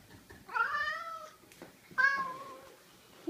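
A house cat meows twice, close and loud, a long drawn-out call followed by a shorter one about a second and a half later, with quiet room sound between.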